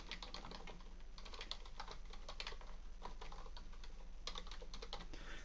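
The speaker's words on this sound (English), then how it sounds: "I'll type in something." Steady, rapid clatter of fingers typing on a computer keyboard, continuous and fairly close, with an uneven rhythm of keystrokes over a low hum.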